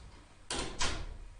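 A door is pushed open and closed in a physics revision lesson, heard as two quick, loud broadband swishes in close succession, with no one talking.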